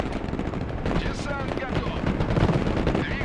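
Rapid gunfire rattles in a Broken Arrow military strategy game battle, loud bursts of shots and booms packed together over a continuous din of combat, with some speech mixed in.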